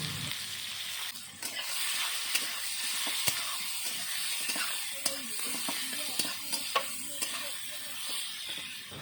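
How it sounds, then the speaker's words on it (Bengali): Chopped onions fry in hot oil with bay leaf and cumin, giving a steady soft sizzle and hiss with occasional stirring clicks, close and fairly quiet. "তারপরে কুচানো পেঁয়াজ দিয়ে ভালো করে ভেজে নেব।"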